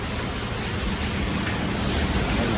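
Steady rain falls around a parked car, a dense, even hiss of drops on surfaces that stays loud and unbroken from start to finish.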